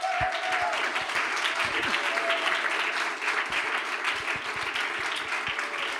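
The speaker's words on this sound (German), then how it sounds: "Und wir machen einen Applaus für Jesus." A church congregation breaks into sustained applause praising Jesus, a dense steady wash of many hands clapping close by, with a few voices and a faint sung or spoken tone mixed in underneath.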